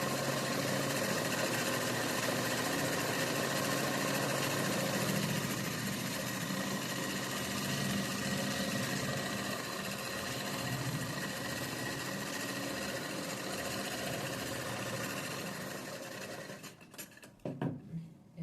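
Sewing machine running steadily as it top-stitches the folded edge of a chudi, a continuous mechanical whirr that holds for most of the time before stopping near the end with a few brief clicks.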